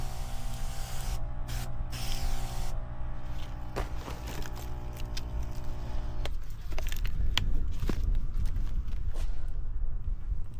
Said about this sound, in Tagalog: spray na natin